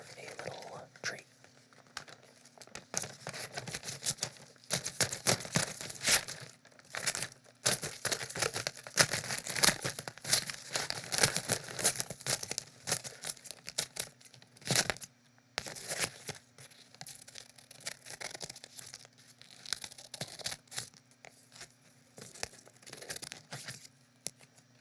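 Scissors snip and tear through assorted objects in close-up quiet ASMR, giving irregular crisp cuts, crinkles and rustles throughout, with soft whispered talk between them.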